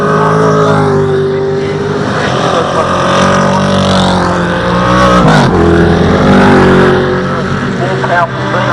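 V8 Commodore race cars in a Super TT race at Winton circuit, engines roaring loud and continuous with shifting pitch as the pack laps, under steady commentary throughout.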